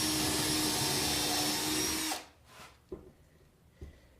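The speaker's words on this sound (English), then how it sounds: "And drill pilot holes along the front edge." A power drill bores pilot holes along the front edge of a wooden model railroad module frame, whining loud and steady for about two seconds before stopping, followed by a few faint knocks and handling sounds.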